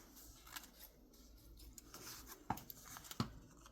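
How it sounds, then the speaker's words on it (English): Scissors trim the side edges of a paper book-page pocket for a junk journal, making faint rustling cuts with a couple of sharper snips near the end, close and quiet. "Just trimming off my sides here."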